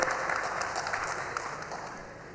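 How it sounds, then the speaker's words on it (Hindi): Applause from an audience at an open forum on potato farming, a continuous, fairly faint patter of many hands heard from a distance with a steady hum beneath. "जोरदार तालियां हो जाए कौशल जी के लिए"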